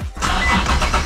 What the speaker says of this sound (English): let me turn on my exhaust